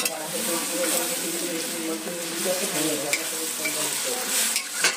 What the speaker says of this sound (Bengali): মশলাটা ভালো করে ভেজে নিয়ে